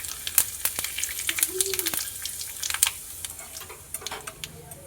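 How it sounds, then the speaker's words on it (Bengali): Whole cumin, garam masala and bay leaf crackle in hot mustard oil, with soft sizzling and scattered sharp pops and ticks, fairly faint and close, with no talking. "গরম তেলে দিয়ে দিলাম।"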